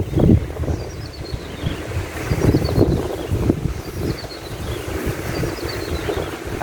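Strong wind gusts across an open countryside spot where wild birds are singing, buffeting the microphone with a steady low roar that swells and eases. Faint, distant bird chirps sit far behind it.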